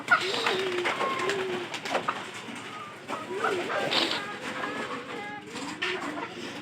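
Domestic pigeons kept at a house alongside chickens coo repeatedly, soft throaty rolling calls close by with a faint background hum, no talking.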